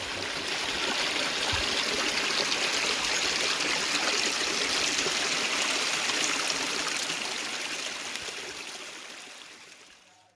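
A stream flows near cave paintings in Palmas, Tocantins, Brazil, giving a steady, full rushing and trickling wash that stays even for most of the stretch, then fades away at the end.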